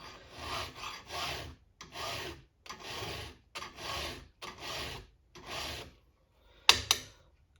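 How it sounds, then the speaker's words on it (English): Hand file rasping a chainsaw chain tooth, with about eight steady back-and-forth strokes close up, each a bright gritty scrape, followed by a brief pause and a sharp metallic clink. "I don't even know what tooth I'm filing on."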